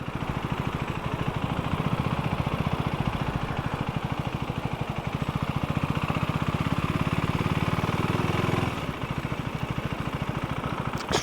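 A KTM 390 Duke single-cylinder engine putters at low speed in first gear during slow bike-control riding, a close, even pulsing thump that swells slightly with a little throttle, then eases back near the end.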